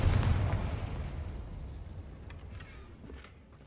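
Confringo blasting spell exploding in Hogwarts Legacy: a heavy, booming blast at the start that rumbles and slowly decays into a fading tail, with no talk over it.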